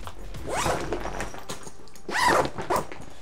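A rofmia Daypack V2 M backpack zipper is pulled open in a few quick rasping strokes, close by, with small rustles of fabric between them.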